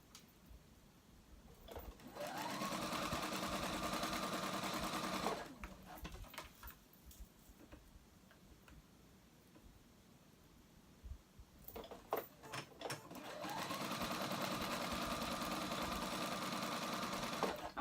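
A sewing machine stitches sweater knit fabric in two long steady runs of whirring motor and rapid needle clatter, close by, with a quieter stretch of handling and clicks between them.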